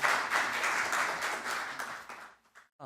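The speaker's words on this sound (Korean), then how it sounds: "큰 박수로 맞으시기 바랍니다" An audience at a Korean cognitive-science industry association seminar applauds to welcome a speaker to the podium, dense sustained clapping from many hands that fades out toward the end.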